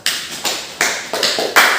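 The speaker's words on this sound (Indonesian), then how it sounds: "Tepuk tangan untuk kelompok 1." Students clapping in short bursts during a school physical education class, a series of about six brisk, close claps and slaps at uneven intervals, with no talking.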